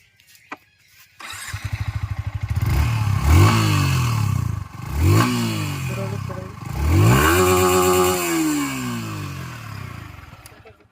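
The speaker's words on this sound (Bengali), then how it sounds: "তো এই ছিল বন্ধু গাড়ির আওয়াজ" A white Yamaha R15 150cc sports bike starts up and idles, then its engine is revved in three rising and falling surges, close and loud, with a steady throb between throttle blips.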